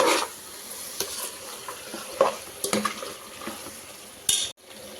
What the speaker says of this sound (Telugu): వేసి మంచిగా మసాలా అంతా మటన్ పీసెస్ బాగా పట్టించేసేయాలండి.